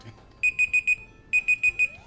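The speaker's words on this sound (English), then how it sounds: "why is that beeping?" An electronic alarm beeps in two quick bursts of four sharp, high-pitched tones each, with a short pause between the groups, loud and clear over quiet room noise.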